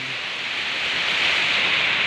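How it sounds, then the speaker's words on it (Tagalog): Steady rain pours onto an outdoor fish tank setup, a dense continuous hiss of falling water that swells slightly louder partway through, with no voices. "yung ulan"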